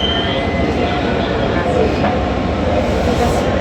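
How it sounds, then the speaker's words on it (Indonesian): Steady ambience at Bekasi Timur train station in Indonesia, a continuous loud rumble of rail traffic and platform noise with a wide, even wash and no distinct events. "ini dia suasana di stasiun Bekasi Timur"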